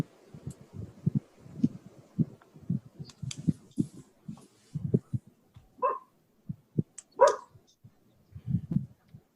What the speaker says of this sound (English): Is that a dog that wants to say something?